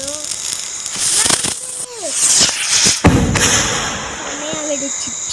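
A flash bang firecracker going off during Diwali celebrations, with sharp bangs and crackling bursts over a few seconds, and loud thuds near the middle. Excited voices and whistles are heard around the blasts.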